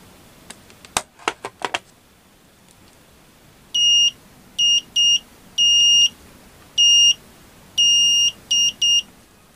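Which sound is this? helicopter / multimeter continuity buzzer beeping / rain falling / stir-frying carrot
multimeter continuity buzzer beeping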